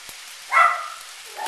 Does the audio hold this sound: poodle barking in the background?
yes